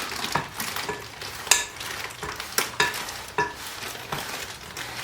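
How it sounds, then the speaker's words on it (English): Cookie dough with chocolate chips stirred in a bowl by hand, soft scraping strokes with occasional sharper knocks of the spoon against the bowl, fairly quiet and steady, no voices. "let's go ahead and stir this up some more"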